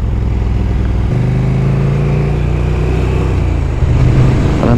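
A KTM motorbike engine and exhaust drone steadily, loud and close while riding into the old tunnel under the River Mersey, with a brief rise in revs and tunnel rumble around it.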